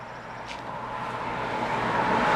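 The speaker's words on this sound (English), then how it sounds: "Oh, we heard the two-stroke coming a mile away." A 1985 Yamaha RZ350 two-stroke motorcycle approaches from a distance, its engine drone swelling steadily louder over the whole stretch against a broad road-noise wash, with no talking.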